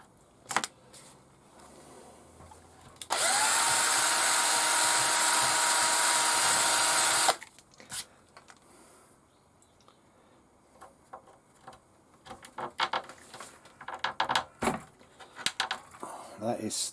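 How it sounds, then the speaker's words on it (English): A steady, loud whine of a power drill running for about four seconds, then stopping, followed by scattered small clicks and handling noises. "Now I can safely drill in"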